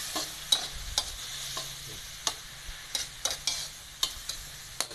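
Apple snails stir-fried with holy basil and oyster sauce, scraped and tossed in a hot pan: a steady low sizzle with irregular sharp clinks and scrapes of the spatula, close and moderately loud, no talking.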